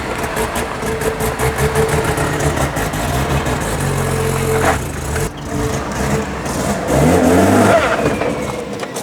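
A Mazda RX-7 rotary engine runs loud and close, idling roughly and then revving up in rising surges, with people talking over it.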